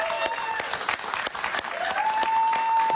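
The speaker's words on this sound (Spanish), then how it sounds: "Un aplauso para él, por favor." A studio audience at a live Spanish-language talk show bursts into steady, dense applause that lasts throughout, with a held tone and some faint voices underneath.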